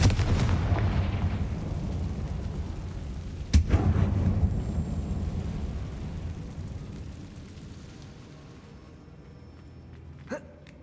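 Two spell explosions, Bombarda and Confringo, go off in the video game Hogwarts Legacy, with a sharp loud blast followed by a fading rumbling tail and a smaller crack near the end.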